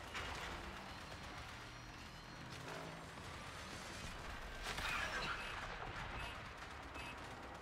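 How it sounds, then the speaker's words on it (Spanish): Rumbling explosions and bursts of gunfire-like blasts from a video game, a continuous dense roar with swelling impacts, moderately loud throughout with no talking over it. "Las explosiones están bastante bien"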